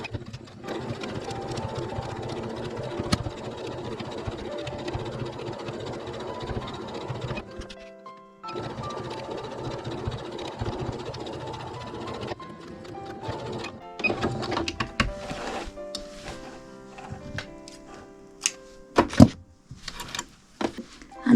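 Sewing machine stitching a patchwork hexagon handbag with a 1 cm seam allowance, running in steady whirring bursts with brief pauses, then stopping and starting in short irregular stitches and clicks near the end.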